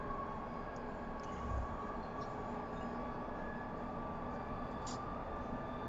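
A train runs in a train simulator video game, giving a steady, unbroken rumble and mechanical hum at an even, moderate loudness for several seconds.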